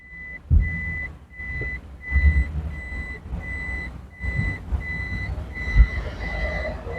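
A 2008 Toyota Fortuner shifted into reverse sounds a steady series of evenly spaced, high-pitched reversing beeps, about two per second, over low rumbling cabin and engine noise.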